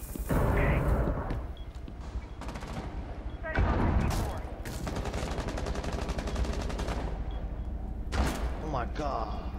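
Gunfire in Rainbow Six Siege, close and loud, with sharp bursts and rapid automatic volleys that come in clusters and hammer almost continuously, broken by a few short gaps.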